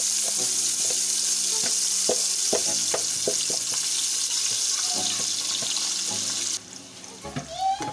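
A blended tomato and onion mixture hits a hot pan on low flame, giving a steady loud hiss with clinks and scraping of stirring, the sizzle dropping away near the end.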